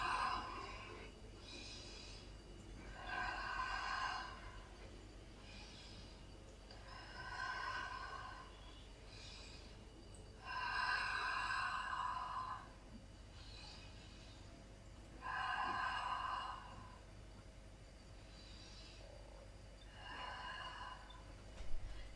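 Slow, deep breathing during a cardio Pilates stretch, about five long breathy exhalations spaced evenly a few seconds apart, close and fairly soft with quiet pauses between.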